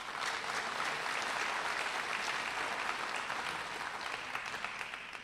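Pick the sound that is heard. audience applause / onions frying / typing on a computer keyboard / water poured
audience applause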